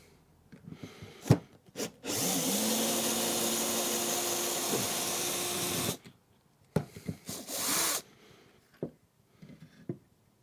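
A power drill backs a screw out of wood in two bursts: a steady whirring grind of about four seconds, a short pause, then a second two-second run, with a few knocks before and after, close by.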